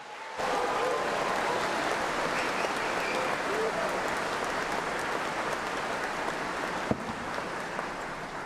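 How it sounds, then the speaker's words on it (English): A crowd at a Bath Spa University graduation ceremony claps and cheers in a steady, sustained round of applause that fills the hall for several seconds. "Round of applause for everyone on the live stream."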